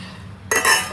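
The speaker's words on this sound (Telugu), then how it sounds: "దీన్ని మూత పెట్టేసి ఉడికించుకుందాము" A metal lid lands on a kadai of raw banana curry with one sharp clatter, followed by a brief ringing rattle over a low kitchen hum.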